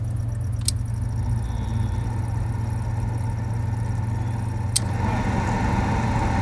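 Heater blower motor running in a 1969 Chrysler 300, set to low, a steady droning hum alone under a continuous broadband wash, with two faint short clicks, no talking.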